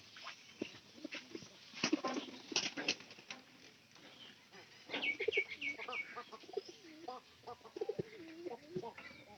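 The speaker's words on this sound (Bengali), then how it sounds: "পায়রা ডাক বাজ আছে" A released red pigeon coos in repeated soft bursts, with some pattering flutter mixed in and faint voices nearby.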